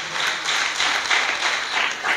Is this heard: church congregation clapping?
yes